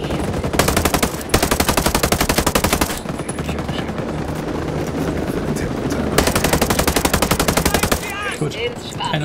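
Sustained machine-gun fire in the shooter game Ghost Recon Breakpoint, long loud rapid bursts with brief pauses between them, close and dominant, with faint voices behind the shooting.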